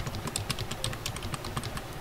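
Fingers type on a computer keyboard, entering a number in quick, even keystrokes that click close and steady over a low background hum.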